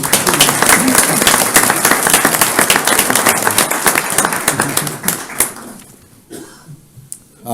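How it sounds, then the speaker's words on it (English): Audience at a county council meeting bursts into sustained applause, dense clapping holding steady for about five seconds before thinning out into a few scattered claps and quiet. "Let's give her a round of applause."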